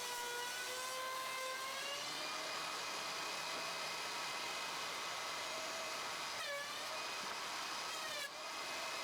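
A thickness planer feeds wood boards in a workshop, producing a loud continuous whine and roar across the whole stretch, with slight shifts in pitch as the cut changes.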